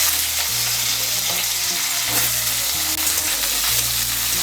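Cut potatoes fry loudly in a pan with a continuous hiss, while a spatula stirs them in repeated scraping strokes close up.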